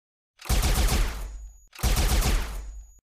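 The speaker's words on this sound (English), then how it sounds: "As the gunshots die down" Two long bursts of rapid gunfire, each lasting about a second, separated by a short pause, loud and close.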